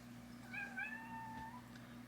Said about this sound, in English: My cat is banging at the door trying to get in.